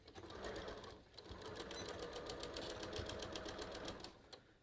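A sewing machine stitches steadily along the binding of a kangaroo pocket on a top, a fast even whirr that runs almost unbroken, close and alone, with one short pause near the start.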